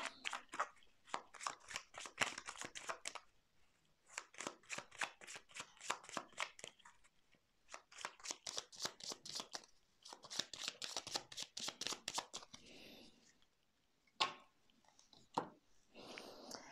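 Tarot cards are shuffled for a reading in repeated close, quiet bursts of rapid riffling flicks, separated by short pauses, with a few louder taps near the end.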